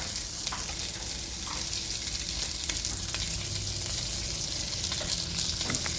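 Hotdogs fry in a pan with a constant sizzle and a few soft clicks as they are turned, heard up close with no talking.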